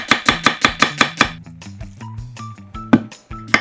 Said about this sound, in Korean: 단맛이 풍부한 적양파 4분의 1개도 얇게 채 썰기